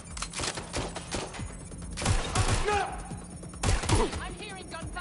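Rapid bursts of video game gunfire on PS4 crackle in quick volleys, punctuated by heavier booms and thuds, with brief shouting voices mixed in.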